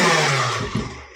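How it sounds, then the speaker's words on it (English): An electric blender grinds steamed sweet pumpkin for a Korean sweet pumpkin rice cake, giving a loud, steady, close motor whir that eases slightly toward the end of the short burst. "Let's put it into a blender. Close the cover and we ground it."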